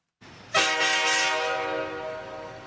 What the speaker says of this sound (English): Nope, that's still the train horn.